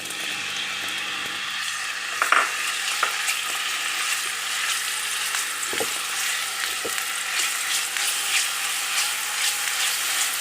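Boneless chicken pieces coated in tandoori masala frying in a little oil in a pan, a steady crackling sizzle with a few sharper pops and scraping stirs along the way.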